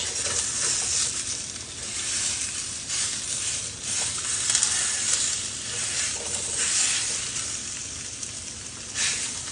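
About half a pound of country pork breakfast sausage sizzles in a pan, a dense steady crackle and hiss that swells and fades slightly, close and continuous with no talking.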